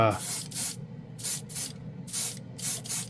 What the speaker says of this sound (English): we're just going to go ahead and spray and show you guys